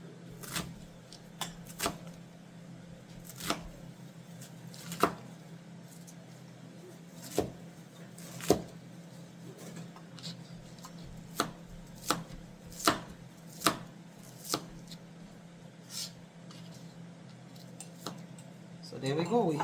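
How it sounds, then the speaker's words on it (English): An onion being diced and sliced with a knife on a cutting board: a series of crisp, separate chops at an irregular pace against a low steady hum, with speech faint or absent. "I'm just going to continue cutting up the onion."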